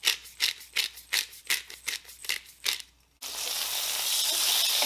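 Snow peas and thinly sliced red bell pepper with smashed garlic go into a hot pan on a Farberware cooktop. Rhythmic crunchy scraping lasts about three seconds, then breaks into a loud, steady sizzle.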